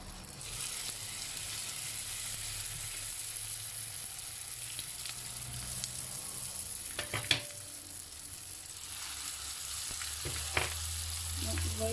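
Samosas stuffed with egg and potato sizzle steadily as they fry in hot oil, with a continuous crackling hiss and a few sharper pops and clinks of a utensil partway through.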